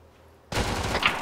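Gunfire in Arma 3 bursts in suddenly after a quiet moment, a dense loud crackling volley close by that fills the rest of the short moment.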